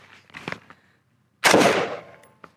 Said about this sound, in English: M193 out of a 20-inch barrel at 15 meters